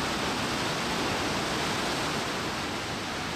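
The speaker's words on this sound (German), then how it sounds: "Bald schon kommen wir an einen reißenden Wasserfall" The rushing Dønfossen waterfall in Norway roars as a dense, steady wash of broadband noise, loud and unbroken throughout, with no other sounds standing out.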